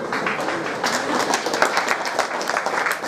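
Audience clapping at a school annual day function in Rajasthan, a steady, dense patter of many hands that holds at an even level for about three seconds.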